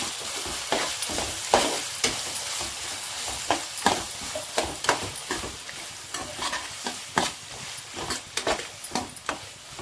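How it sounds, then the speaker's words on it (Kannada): Ground masala fries in a pan for capsicum chitranna, a soft steady sizzle broken by repeated scraping strokes of a spatula stirring close by, with no voices. "ಚೆನ್ನಾಗಿ ಸ್ವಲ್ಪ ಹಸಿ ವಾಸನೆ ಹೋಗೋವರೆಗೂ ಸ್ವಲ್ಪ ಫ್ರೈ ಮಾಡ್ಕೊಳ್ಳಿ"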